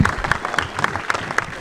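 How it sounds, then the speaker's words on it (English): An audience in a movie theater bursts into brief, close applause, with sharp individual claps rising in a short flurry. "you should applaud that"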